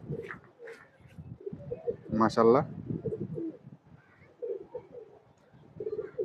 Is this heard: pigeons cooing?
yes